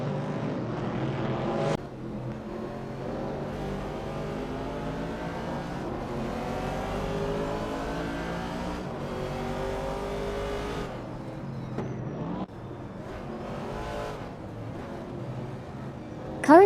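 Vintage TransAm race cars roar through a racing simulator game, a dense continuous engine drone with shifting pitch as several cars rev and pass, loud and steady throughout with brief dips near the start and late on.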